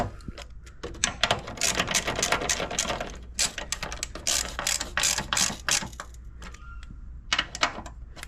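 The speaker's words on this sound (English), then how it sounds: "I'm gonna go ahead and tighten down the top 3 that we loosened up, and that will hold the coilover into place" Ratchet wrench tightening the coilover top-mount bolts on a Nissan 350Z/Infiniti G35, with rapid close clicking bursts in several runs separated by short pauses, and no talk over it.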